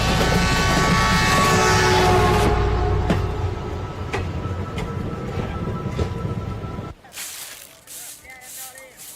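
A passenger train bound for Macherla rumbles loudly and steadily for about seven seconds. It then drops away to a quieter, hollow background with faint voices.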